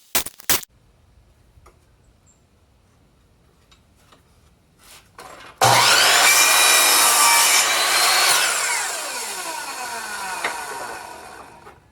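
Black walnut wood being sawn at a 45-degree angle: after a few faint taps, a loud continuous rasping saw cut starts abruptly and runs steadily to the end, close and alone.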